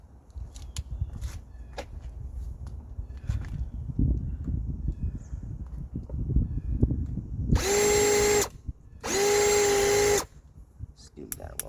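A Harbor Freight Bauer hammer drill grinding into material in two loud, steady bursts of a few seconds each, near and harsh, following someone talking over footsteps and handling noise.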